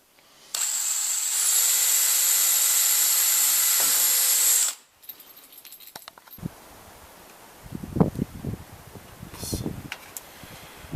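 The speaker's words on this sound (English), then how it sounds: "So I'm drilling holes in the terminal block so that we can mount it on the wall." A power drill bores holes into a terminal block for wall mounting during a ham radio solar power install, a loud steady whine for about four seconds, then stopping, followed by quieter handling clatter and rustling.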